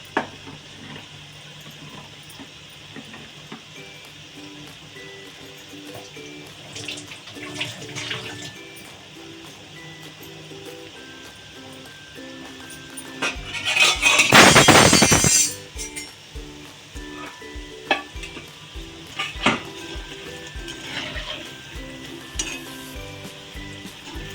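A pan of food fries in a home kitchen during an Indian meal preparation, with soft sizzling, scraping and clinking as it is stirred, and one loud burst of hissing and rattling in the middle.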